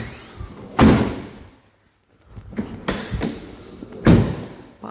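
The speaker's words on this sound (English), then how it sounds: "So I'm going to shut my ramp up." A vehicle's ramp is shut with heavy metallic clunks and thuds, a loud bang followed by a pause, then a series of rattling knocks and a final solid slam, close by.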